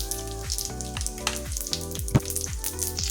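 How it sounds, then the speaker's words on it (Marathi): Peanuts roasting in hot oil in a pan as cumin and mustard seeds go in for wheat vermicelli upma, giving a steady close sizzle under loud background music with tonal swoops. "एकीकडे शेंगदाणे रोस्ट होत आहेत, त्यातच आपण आता जिरं घालतोय,"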